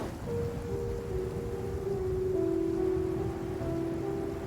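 Rain falls steadily in the video game Genshin Impact, a soft, even hiss of drops with a sustained tonal hum running through it and no voices.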